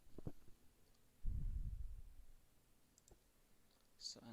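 A computer mouse gives a few faint, sparse clicks in a quiet room while a differential amplifier circuit is laid out in schematic software, with a low thump partway through.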